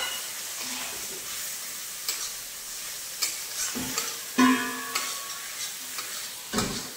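Chopped tomatoes hit cooked-down masala in a hot pan for a Bengali prawn curry, sizzling steadily while a spatula scrapes and knocks against the pan in irregular bursts, close up and without talk.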